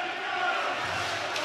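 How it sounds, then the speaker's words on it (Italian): Organized Lodi supporters chant in a hockey arena during a Serie A1 match against Grosseto, a dense, steady roar of crowd voices heard from a distance. "mentre sentite il rientro appunto della tifoseria organizzata del Lodi"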